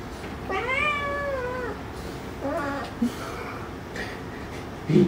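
A pet cat meows close to the microphone: one long drawn-out meow, then a shorter one, then a few small snorts and sounds with quiet gaps between.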